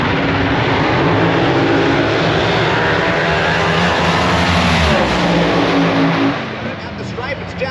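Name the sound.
supercharged top dragsters racing down the quarter mile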